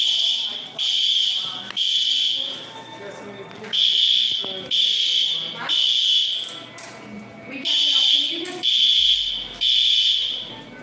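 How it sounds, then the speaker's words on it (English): A fire alarm sounds in loud, repeated high-pitched buzzing blasts, each lasting about a second with short gaps between, and people talk underneath in the pauses. "even after figuring out how to turn the fire alarm off, the fire alarm lights that were flashing just continued to flash as Daniel started to leave"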